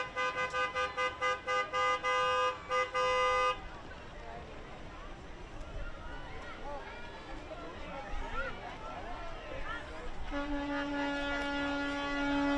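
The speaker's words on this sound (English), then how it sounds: "You might not hear this one coming if it wasn't honking its horn, because this is the first electric school bus for the Pasco School District." An electric school bus in a Fourth of July parade gives a string of short toots followed by a long honk, then a busy street crowd murmurs, and a second, lower horn sounds near the end.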